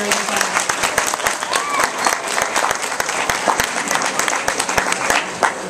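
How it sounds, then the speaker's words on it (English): Audience applause for a kindergarten class at a 2013 kindergarten graduation ceremony, steady dense clapping with sharp individual claps standing out, continuous for the whole stretch. "Let's have another round of applause for our wonderful kindergarten class."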